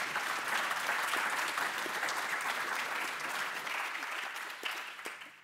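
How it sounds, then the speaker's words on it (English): Steady audience applause at a conference session on governing the creative recovery, fairly faint and even throughout, a roomful of hands clapping without speech. "Let's give them all a round of applause"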